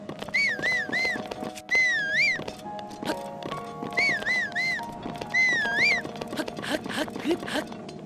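Link's whistle in Zelda: Breath of the Wild, played as repeated warbling tooted phrases while he runs, set over a game music bed with steady footstep-like clatter; four whistle bursts come in a loose rhythm.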